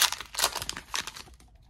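Foil wrapping of a trading card pack crinkles and tears as it is opened, several sharp close bursts of crackling that fade out toward the end.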